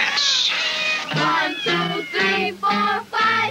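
Several cats meow in quick succession, loud and close, a string of about six tonal, rising-and-falling cries with short gaps between them.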